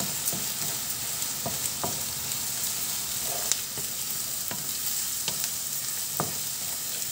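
Rice and filling for stuffed peppers being sautéed in a pan hiss with a steady sizzle, punctuated by intermittent scraping stirs at an irregular pace.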